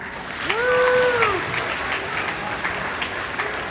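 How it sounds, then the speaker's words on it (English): Students give each other a round of applause at a school Student of the Month gathering: a broad, even wash of clapping, with a brief whistle-like rising tone near the start. "Let's give each other a round of applause."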